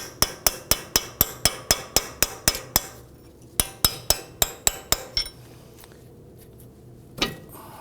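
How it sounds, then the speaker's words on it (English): A hammer drives a punch to knock a front CV axle out of the knuckle on a 2005–2009 Subaru Legacy 2.5L H4, with two close, rapid runs of sharp metallic strikes separated by a pause and a single final blow. "Go ahead and knock that through. You can use a punch in the middle here"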